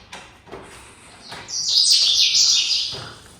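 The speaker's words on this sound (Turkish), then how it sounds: "Çok güzel kuşlar ötüyor." Birds chirp and sing in a bright, high twittering burst that swells midway and fades, set against quiet outdoor background in Marrakesh near Jemaa el-Fna.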